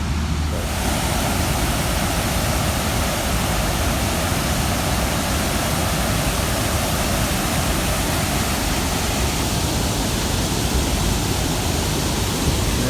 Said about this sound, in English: And waterfall is pretty today. The water's pretty high.